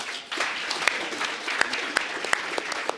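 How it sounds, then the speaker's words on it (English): An audience applauds warmly and continuously, dense clapping filling the room with a few sharper claps standing out. "let's give them a round of applause"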